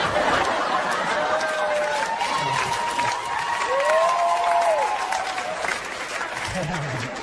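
Steady applause from a stand-up comedy audience fills the space, with scattered voices and murmurs mixed in throughout.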